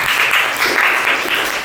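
Classroom applause from students praised by their teacher: a short, dense burst of many hands clapping, loud and near throughout.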